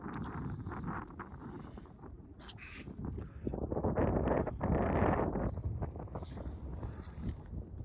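Cold wind gusts across a mountain road in the Zanskar valley of Ladakh, buffeting the microphone in rough, uneven waves that swell and ease over several seconds, with no talking.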